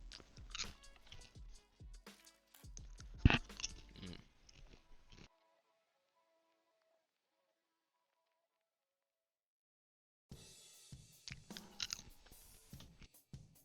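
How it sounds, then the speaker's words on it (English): A person chewing food close up: crunchy, wet bites come in dense bursts for several seconds, then a long silence before the chewing starts again. "I can hear you chewing"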